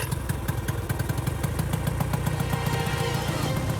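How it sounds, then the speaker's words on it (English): A dinghy's outboard motor catches after a pull-start at a tinny race and runs on, a close, loud, rapid puttering beat with clattering mechanical rhythm throughout. "The boys' whole race depends on the pull on this motor."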